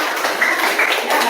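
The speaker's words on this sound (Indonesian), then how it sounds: "kalau tidak coba kasih tepuk tangan dulu untuk" Children applaud in a classroom, a dense burst of bright hand claps and taps lasting a moment, close and lively.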